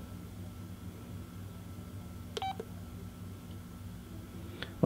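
A Verizon LG VX5400 cell phone gives a quick pair of electronic key beeps partway through a factory reset, thin and brief over a steady low hum.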